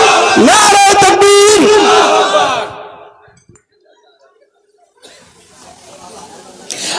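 A crowd answering the call of takbir at a religious gathering, a loud, massed chorus of raised voices shouting together, then falling away to near silence before a fainter murmur returns.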